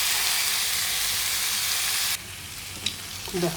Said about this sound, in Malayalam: ഇതിൻ്റെ അകത്തിട്ട് നന്നായിട്ട് ഇളക്കി